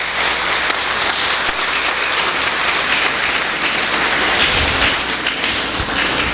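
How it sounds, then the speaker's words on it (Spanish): Church congregation applauding loudly, a dense continuous roar of many hands clapping, close and sustained with no speech over it. "Dele un aplauso fuerte al Señor."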